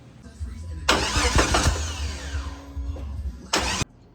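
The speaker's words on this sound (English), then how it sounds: "We fired the Jeep up" The engine of a Jeep Grand Cherokee ZJ, newly fitted with a fuel pump, cranks and catches with a sharp burst. It settles into a rough idle, then gives a brief second blip, loud and close.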